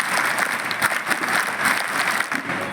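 A school audience breaks into dense, sustained applause for Pathak sir during a gathering at Samarth High School, the clapping steady and continuous throughout.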